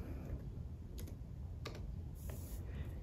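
Quiet typing on a computer keyboard on a Mac: a few soft, scattered key taps over steady low background hum, with no voices.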